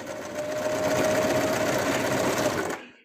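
A sewing machine runs in one continuous burst, stitching a plush hood. The whirring, rapid motor is close and clear for nearly three seconds, then stops.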